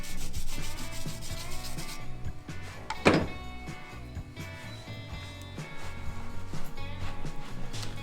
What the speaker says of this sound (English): Let's give the old wire brush treatment